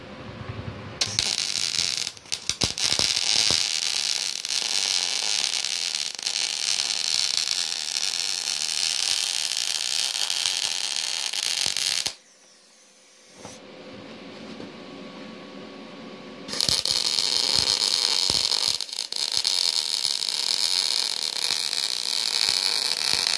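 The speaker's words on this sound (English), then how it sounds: "Here's my piece of metal I'm gonna weld." A Vulcan 220 welder running on solar power joins two scrap pieces of metal, giving a loud continuous crackling hiss that breaks off briefly midway, then resumes just as strongly.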